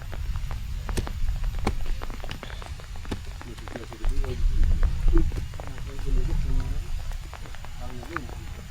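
Rain falls steadily during outdoor work on a Thai village house while new post footings are put in, a dense pattering hiss throughout with voices talking over it.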